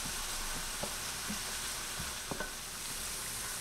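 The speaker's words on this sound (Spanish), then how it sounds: "agregamos 3 dientecitos de ajo triturados bien pequeños y doraremos por un minuto" Finely crushed garlic, three small cloves, sizzles steadily in a hot pan with oil, a continuous fry hiss broken by a few soft stirring scrapes, close and fairly quiet with no voices.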